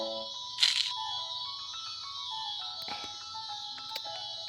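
A mobile phone rings with steady electronic tones that hold through the whole stretch, fairly close and alone, with a couple of short clicks and knocks over it.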